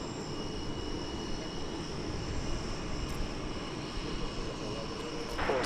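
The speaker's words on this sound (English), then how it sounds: "American Airlines 737-800." An American Airlines Boeing 737-800 arriving at DFW from Austin gives off a moderate, even engine rumble, with a steady whine above it, that continues throughout.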